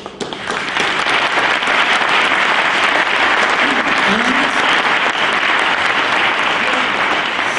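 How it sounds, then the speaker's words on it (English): Loud, sustained applause from a conference audience greeting speaker Peter Gloor, a thick even wash of clapping that starts abruptly and holds steady to the end. "let's give a round of applause to Peter Gloor"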